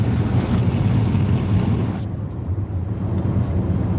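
Steady wind roar buffets the microphone, broadband rumble that shifts slightly midway, with no voices present.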